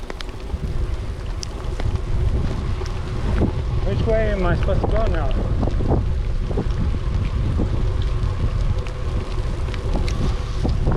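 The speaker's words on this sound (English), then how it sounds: "Rain is getting heavier." Rain and wind sweep across the Starkey Gap Trail near SR54, with loud, constant gusts buffeting the microphone over a rough hiss; someone speaks briefly partway through.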